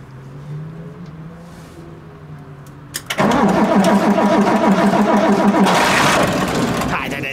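An old Kaelble crane's separate engine is cranked, then coughs and catches, running loud and rough close by after a quieter stretch at the start.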